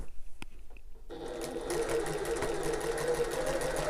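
A sewing machine hums steadily and close as it stitches around the top of an open tote bag, starting after a brief quiet pause and then running continuously.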